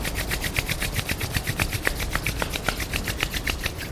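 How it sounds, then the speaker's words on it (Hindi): Palms rubbing gently together during a guided mobility and relaxation exercise, giving a steady close rasping friction with soft rhythmic strokes and no talk. "जेंटली अपने हाथों को रब करिए."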